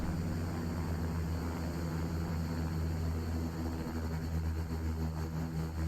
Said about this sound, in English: Oh my gosh, I love those prop sounds.